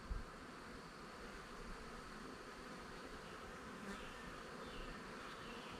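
Honeybees buzz in a steady, dense drone during a hive inspection while the hive is opened, a constant swarm hum close by with no talking.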